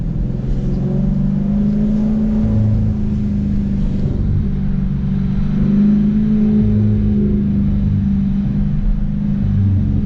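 A car engine drones loudly and steadily through an early-morning drive with tunnel pulls, its low rumble swelling and easing slightly with no talking.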